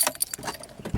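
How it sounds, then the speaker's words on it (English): Keys jangle as a car ignition key is turned off, a short bright metallic rattle close by with a faint low thump at the end, no talking. "I'm going to turn the ignition back off"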